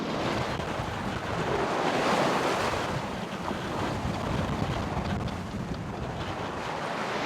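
Strong wind and breaking waves on a sailing boat at sea on a gusty day with steep, confused waves, a continuous loud roar of wind buffeting the microphone and water rushing past the hull, with no talking.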